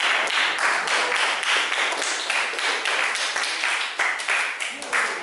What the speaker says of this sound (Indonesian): Oke, aplaus dulu buat kelompok 1.